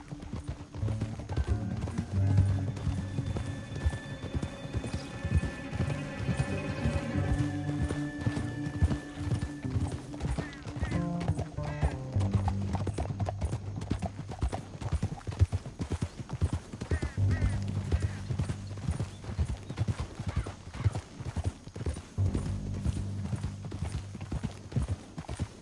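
Horses gallop in a video game with steady, rhythmic clip-clop hoofbeats, and occasional whinnies sound over a continuous musical score. The hooves stay loud and close for the whole stretch.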